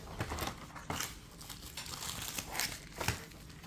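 The plastic and cardboard packaging of a Zizo Bolt phone case is pulled open, giving close, quiet crinkling and rustling in irregular bursts with no talking.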